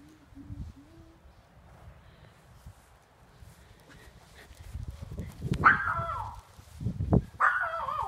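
A dog gives a few short barks and yips outdoors in the snow, irregular and moderately close, after a stretch of quiet rustling.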